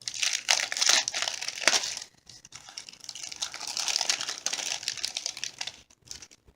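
Crinkly plastic packet of paper flower die cuts being opened, with loud rustling and crackling for two seconds, then quieter intermittent crinkling and handling continuing to the end.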